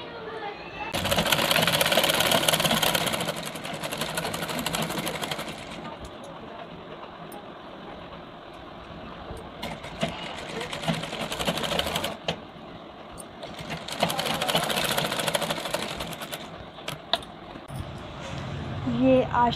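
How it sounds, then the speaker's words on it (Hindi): Sewing machine stitching the side seam of a sleeve, running in steady bursts of rapid needle clatter that start and stop over the stretch, with quieter pauses between runs. "बटन लग चुका है, अब हम इसे साइड से सिलाई करेंगे।"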